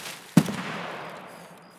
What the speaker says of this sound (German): Weil Schüsse höre ich nämlich.